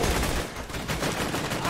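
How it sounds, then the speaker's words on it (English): Dense gunfire crackles through a wasteland-set video game, a steady rattle of shots lasting a couple of seconds with voices mixed in underneath. "Gun him down."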